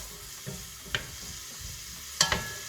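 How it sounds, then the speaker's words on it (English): Onions, carrots and celery cook over medium heat in a pan as the base for an Italian lasagne, giving a soft, steady sizzle close by, broken by a few light clicks and scrapes from a stirring utensil, with no talking. "I'm going to cook this on a medium heat until the onions, carrots, and celery start to become soft"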